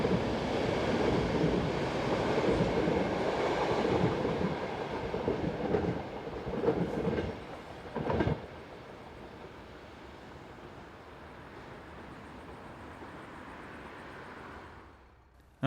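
Passenger train EC103 from Warszawa to Villach rolls out of a tunnel heading southwest, a steady loud rumble with clattering wheel beats that fades into a softer, distant hum as it moves away.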